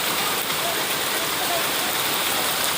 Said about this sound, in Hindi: खतरनाक बारिश का दौर जारी।